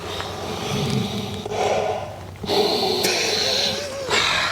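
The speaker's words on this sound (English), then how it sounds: "We're gonna have to do a sniff test." Close, breathy sniffs come in several short bursts as someone smells the inner lining of a motorcycle jacket, with faint rustling of fabric between the inhalations.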